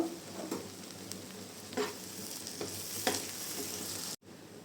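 Chopped garlic fries in hot oil with a steady, even sizzle, and a few soft stirring scrapes break through before it cuts off abruptly near the end.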